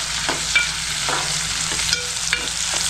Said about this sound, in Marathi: कांदा तर चांगला फ्राय करून घेते, लाल करून.